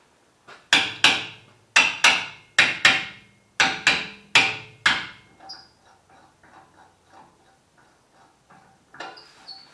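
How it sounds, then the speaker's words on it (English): Hammer blows on a fishing outing, a steady run of loud, sharp strikes in pairs that ring briefly, then fainter light taps trailing off, close up with no talking. "Grab my hammer."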